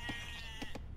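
Sheep bleating in the Age of Empires 2 video game, a few short bleats packed into one second, moderately faint and heard alone.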